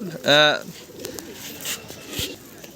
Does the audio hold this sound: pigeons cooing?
yes